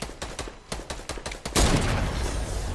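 Gunfire from a Fortnite match: a string of sharp separate shots in the first half, then a dense, loud burst of sustained fire that keeps going to the end.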